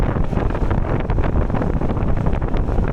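Cold wind buffeting a microphone on a rural provincial back-road shortcut, loud continuous rumbling gusts that surge and flutter close up, with no talking.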